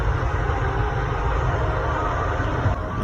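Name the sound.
train going by in the distance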